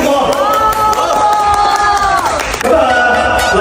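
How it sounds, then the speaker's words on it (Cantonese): A crowd at an annual company meeting cheers and applauds loudly and continuously, with whoops and voices mixed into the steady roar. "好，掌聲通過。"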